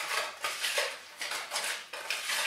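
Quick hand stirring in a bowl while preparing a cappuccino cherry cake, a bright scraping clatter of utensil against bowl in short repeated strokes, close and steady, with no talking.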